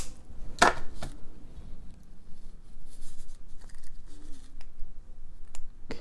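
Cutters snip jewelry wire shorter while making a beaded necklace, with one sharp close click near the start followed by a few lighter clicks and handling noises.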